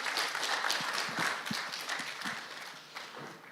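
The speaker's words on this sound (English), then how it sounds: "Big applause, please" A small audience at a data project competition gives brief, quiet applause, with scattered, uneven claps that sound faint and somewhat distant.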